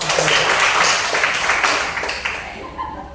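A group of primary school children clapping their hands together in a classroom activity, a loud, close burst of dense, fast claps that thins and fades over a few seconds, with voices mixed in.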